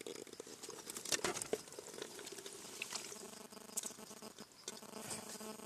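Cleaned baby mangoes for Kerala-style tender mango pickle tumble into a clay pot. Soft, faint patter and a few sharper knocks come as they land and settle, with no voices.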